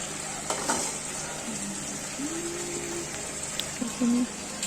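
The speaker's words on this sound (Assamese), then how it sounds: "এইফালে পিঁয়াজ ভাজিছে কণীৰ লগত" Onions frying together with eggs in a home kitchen pan, giving a steady soft sizzle with occasional stirring scrapes and brief clinks, moderately quiet and close.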